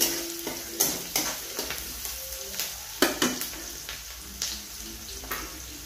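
Onions and coriander frying in a pan for a Marathi-style ghevda (flat bean) vegetable dish, a steady close sizzle broken by repeated sharp scraping and stirring clatters of a spoon against the pan, with no talking.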